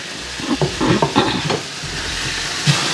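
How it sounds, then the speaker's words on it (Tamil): Beetroot and tomato curry stirred in an open pan, a spoon scraping through the mixture in several close strokes over a soft steady sizzle. "மூடியை போடாமல் தக்காளி பழம் போட்டு இப்படி 2-3 நிமிஷம் அப்படியே பிரட்டி கொண்டே இருக்கணும்"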